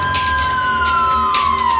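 Emergency vehicle sirens wail as crews arrive at a crash scene where a patrol car was demolished, a loud steady siren tone sliding slowly downward over continuous traffic rumble.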